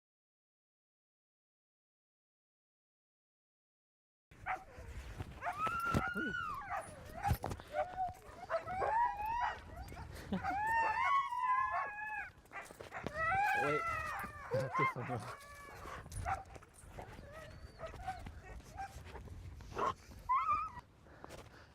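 Sled dogs in an outdoor setting bark, yip and whimper in overlapping bursts at moderate distance after a few seconds of silence, with a person speaking briefly amid the noisy pack.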